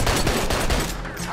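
Bursts of rapid gunfire in the co-op shooter game Army of Two: The Devil's Cartel, loud, dense overlapping shots filling the whole moment with no pause.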